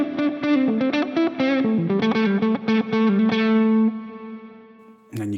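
An electric guitar plays a run of distorted, picked notes through a Line 6 Helix with ducking reverb. The reverb swells in as the notes ring out, and a sharp pluck lands at the very end.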